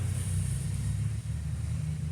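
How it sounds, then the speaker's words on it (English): Steady low rumble of noisy cars passing nearby, filling the whole stretch with a continuous drone and one brief dip midway. "Now we got noisy cars."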